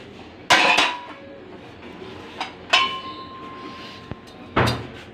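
A metal lid comes off a cooking pot of bakra pulao with three or four sharp clanks and scrapes of metal on metal, close and separated by short pauses, with a faint ringing tone after one strike.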